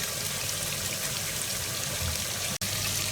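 Soaked, washed mash dal tipped into a pan of fried masala with onion, tomato and chili, giving a steady, close, wet hiss and pouring rush throughout, broken by one brief dropout near the end, with no talking.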